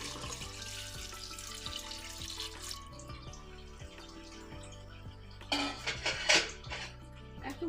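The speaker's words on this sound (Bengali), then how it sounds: "এখন পানি দিয়ে দিচ্ছি।" Water is poured into a pressure cooker holding chicken, a soft splashing rush near the end with light metallic clinks from the pot, faint and close under quiet background tones.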